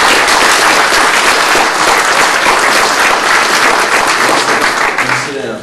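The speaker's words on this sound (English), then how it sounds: "Give yourselves a round of applause." Loud, dense applause fills a college auditorium during a talk, with cheering voices mixed in and no break before it begins to fade at the very end.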